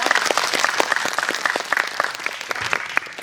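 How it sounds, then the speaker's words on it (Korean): Audience applause at a CGV Yongsan film screening and guest talk for Past Lives, steady dense clapping from a sizable indoor crowd lasting throughout, fairly close and loud. "박수 한번 부탁드릴게요"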